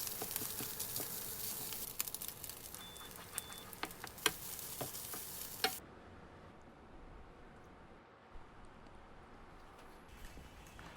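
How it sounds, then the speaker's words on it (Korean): Shrimp, garlic and egg fried rice stir-fried in a pan, giving a dense, steady sizzle and patter with scraping stir sounds for about six seconds before cutting abruptly to quiet room tone. "세 번째는 새우 마늘 계란 볶음밥으로 빠르게 한번 볶아볼게요"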